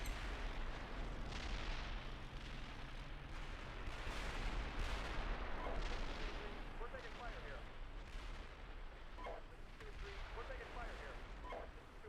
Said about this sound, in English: Yeah, and a shitload of artillery.